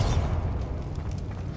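A Bombarda spell blast goes off in Hogwarts Legacy, a heavy low boom bursting at the start and then rumbling and crackling with debris as it decays over the next second and a half.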